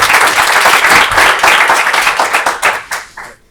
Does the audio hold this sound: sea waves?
no